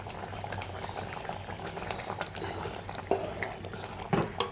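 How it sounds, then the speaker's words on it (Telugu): Eggplant and tomato simmer in a pot of curry, a steady close bubbling and gurgling with a couple of louder clunks near the end and no speech. "ఇదిగండి వంకాయ టమాటా ఉడికిపోయింది."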